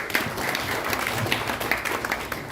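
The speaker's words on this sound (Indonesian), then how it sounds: "Tepuk tangan untuk kita semuanya." An audience at an evening appreciation event for school supervisors and principals claps, a moderate, continuous patter of many hands sustained across the whole moment.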